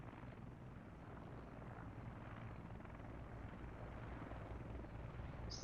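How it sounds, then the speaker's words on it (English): Helicopters fly in the video game Squad, their rotors a steady, close, droning whir that holds at an even loudness throughout with no talk. "So I'm flying slightly in front of the Russian helicopters now."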